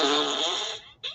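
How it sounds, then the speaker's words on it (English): A talking Santa toy plays a Christmas fart sound effect: one long, loud, buzzy blast that tapers off, then a brief second puff. "Listen to this frosty Christmas fart."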